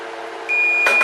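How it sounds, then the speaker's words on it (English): A kitchen timer starts beeping partway through, a steady high electronic tone over low stovetop background noise while taco meat cooks, with a short clatter near the end. "Turn off our timer."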